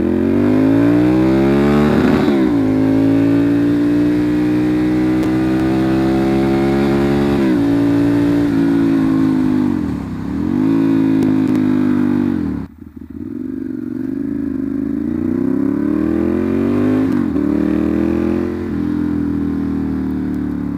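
A Ducati Monster 796 motorcycle with an SC Project exhaust accelerates hard and steadily, its loud close engine note climbing through the gears with brief dips at shifts, no talking over it.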